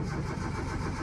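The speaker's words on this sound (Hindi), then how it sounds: "यस अल्हम्दुलिल्लाह first self start for you." A Project FX car engine fires on the first turn of the key, a short, close, mid-pitched rumble that catches and settles with no one talking.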